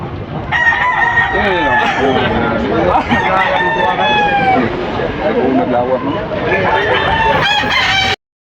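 Rooster at a bustling Philippine chicken market crows in long harmonic calls, with other birds and background chatter mixed in throughout.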